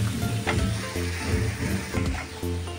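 Chopped carrots fry in a pan for chicken candy, giving a steady loud sizzle with faint stirring scrapes and no talk.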